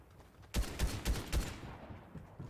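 Gunfire from an AK rifle in the video game Fortnite: four sharp, loud shots in quick succession, each with a heavy low thump, followed by a fading reverberant tail.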